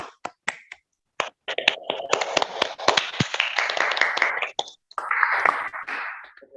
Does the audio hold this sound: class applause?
yes